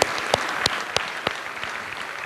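Applause for the Altrusa Club at an adult education commencement ceremony, a steady wash of crowd clapping with a few sharp individual claps standing out, moderately loud and continuous.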